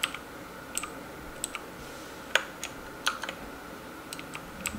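Keys click on a $40 Amazon mechanical gaming keyboard, sharp separate presses spaced irregularly with a few quick doubles, close and crisp against a quiet room with no talk.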